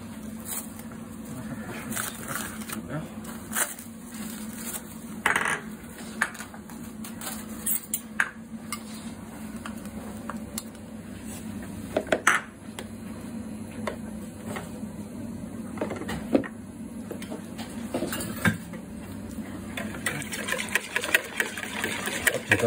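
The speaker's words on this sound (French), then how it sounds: "on va commencer à battre les jaunes, à les blanchir avec le sucre" Egg yolks being whisked with sugar and honey for a goat cheese and honey crème brûlée, a steady rapid clicking and rattling of a whisk against a bowl that runs on throughout, with a low hum beneath.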